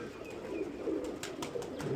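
A racing pigeon in a loft coos softly with low, throaty burbling, fairly faint and steady for a couple of seconds, with a few light rustles behind it.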